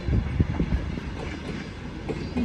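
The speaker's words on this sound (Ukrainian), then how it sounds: "Ось бачите, відправився потяг." A passenger train departs near a station in the mountain resort of Hirska Tysa, wheels clattering and rumbling loudly nearby in uneven knocks, with a brief squeal near the end.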